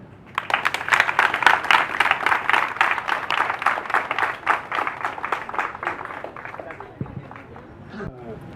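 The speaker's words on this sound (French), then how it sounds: "je vous prie d'applaudir très très fort pour le doyen de la faculté." University students applaud their faculty dean with a rapid, loud burst of clapping that holds strong for several seconds and then thins out and fades, with a few thumps near the end.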